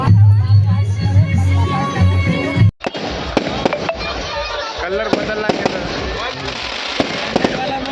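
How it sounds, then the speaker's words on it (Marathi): Firecrackers burst in a rapid, irregular string of sharp cracks and pops, layered over a noisy crowd in the background. "आता झालेली आहे रात्र आणि इथं मस्त फटाके फुटत आहे"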